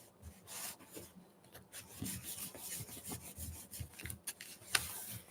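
A hand whisk works through a mixture in a bowl, making faint, rhythmic scraping and swishing strokes at an uneven pace, close by with no talking.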